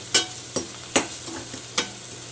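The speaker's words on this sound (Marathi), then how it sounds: "धनेपूड जिरेपूड लाल तिखट मीठ हे सर्व मिक्स करून घ्यायचे पूर्ण छान भाजी एकजीव करून घ्यायचे भाजून घ्यायचे चांगली" Vegetables with sweet corn, coriander powder, cumin powder, chili powder and salt are roasted in a pan: four or five sharp, separate spatula scrapes ring out over a steady, gentle frying hiss.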